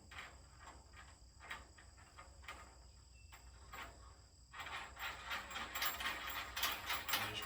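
A nut is run onto a bolt on a trailer, giving quiet rapid ratcheting clicks in short bursts, close and faint, with a soft rustle growing toward the end.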